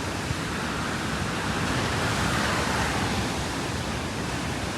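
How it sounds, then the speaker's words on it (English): Big post-storm waves on Lake Superior, a dense, continuous roar of surf and wind that holds steady and loud without breaks, with no voices. "Yes, very big waves."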